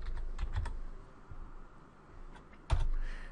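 A computer keyboard is typed on in short bursts: a few quick keystrokes, a pause, then a sharper cluster of clicks near the end, all close and fairly quiet.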